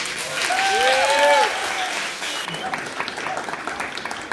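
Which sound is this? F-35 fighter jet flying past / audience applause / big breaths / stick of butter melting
audience applause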